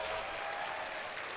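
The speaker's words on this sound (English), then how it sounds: "a round of applause for the Frozen Ninja people." Audience applause at the 2019 Reapercon awards ceremony, a dense steady wash of many hands clapping together, sustained and fairly even throughout.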